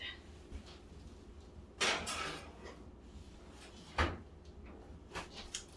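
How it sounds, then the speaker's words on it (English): A home oven door opens to take in a tray of oatmeal squares: two distinct clunks with a few softer knocks and rattles between them, heard close in a quiet kitchen. "Opening up my oven and sticking it inside."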